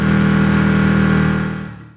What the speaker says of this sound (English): you can hear me let off the throttle